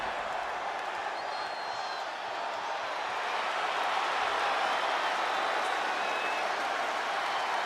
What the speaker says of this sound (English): The crowd is happy to see his answer.